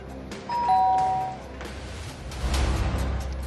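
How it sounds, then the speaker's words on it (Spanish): A doorbell chimes once in a two-tone ding-dong, fairly clear against a busy indoor background, followed by shuffling and rustling noise. "Tocale el timbre, que no se vea cuál es el timbre"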